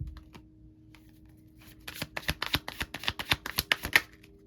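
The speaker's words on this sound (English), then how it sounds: "Let me shuffle right quick." Tarot cards riffle-shuffled close up in a quiet room, a quick run of about ten crisp flicks that speeds up and builds in loudness toward the end after a faint soft start.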